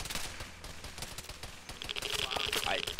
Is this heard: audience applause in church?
no